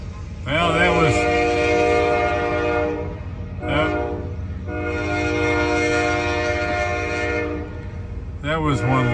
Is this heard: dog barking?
no